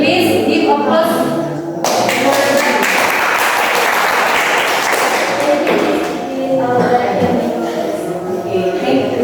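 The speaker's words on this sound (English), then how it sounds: "Please give applause." A school classroom breaks into applause, with scattered taps and thuds before a burst of clapping that swells in the middle and fades, while voices talk over the start and end.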